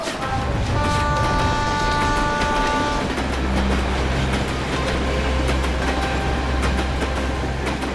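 A train pulls out of a station with a steady, loud rumble and rail clatter throughout, and sustained horn-like tones sound over the first few seconds.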